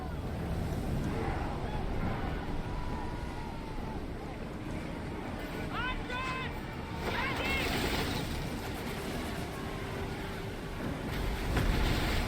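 A ship sails across open water in a video game, with a continuous broad rush of waves and wind at steady loudness, a few brief tonal calls around the middle, and talk mixed in.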